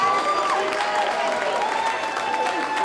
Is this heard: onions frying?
no